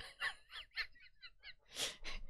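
A person imitates a chicken with a series of short, breathy clucks in a quick uneven rhythm, close and fairly quiet.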